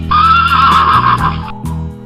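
A horse gives one loud, close whinny that lasts just over a second and ends in a brief, softer snort-like tail.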